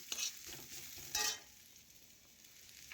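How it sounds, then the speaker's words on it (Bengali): A spoon twice scrapes and stirs crushed garlic and fried onion in a sizzling pan, giving two short, close bursts about a second apart, then only a faint, quiet sizzle. "এখন নাড়াচাড়া করে পেঁয়াজ রসুন ভালোভাবে মিশিয়ে নিলাম"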